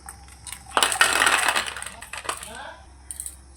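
A crispy fried bitter gourd leaf pakora is snapped apart close up, giving a sharp, brittle crunch followed by a few smaller crackles, with faint talk around it.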